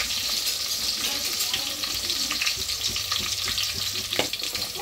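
Green chillies fry in hot oil for aloo poha, sending up a steady, dense sizzle with crackling spits throughout and a low stirring scrape underneath, close and fairly loud.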